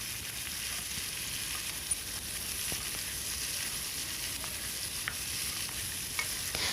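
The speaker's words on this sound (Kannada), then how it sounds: "ಒಂಜಿ 2 ನಿಮಿಷ ನಮ್ಮ ಫ್ರೈ ಮಲ್ಪೊಡು" Ash gourd peel stir-frying in a pan makes a continuous close sizzle, with a few sharp scraping ticks from stirring scattered through it.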